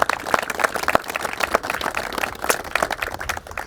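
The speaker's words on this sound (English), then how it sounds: "let's give everybody a big round of applause" An outdoor audience at a park kayak launch ribbon cutting claps in a modest round of applause, a scattered patter of hands that stays fairly even and moderately near for a few seconds.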